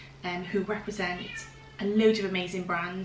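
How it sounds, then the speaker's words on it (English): A hungry cat meows in the background while someone talks over it, with repeated mews mixed into her speech. "in the background meowing her head off as well, because she is hungry for her breakfast"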